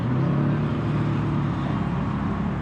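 A BMW M3 engine gives off a steady, broad rumble at an even level for the whole stretch, fairly close, with no talking over it.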